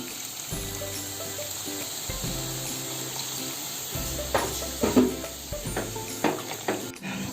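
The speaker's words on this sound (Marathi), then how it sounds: "आता त्याच्यामध्ये काजूगर पुरतील एवढं हे गरम पाणी घालते" Hot water poured into a pan of fresh cashew kernels for a Konkani-style usal, a steady watery pour with splashing and a few clinks of utensil against the pan, close and moderately loud, no voices.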